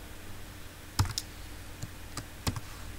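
A few soft keyboard clicks in a quiet room during a geometry lesson, scattered single keystrokes with pauses between them, faint and close.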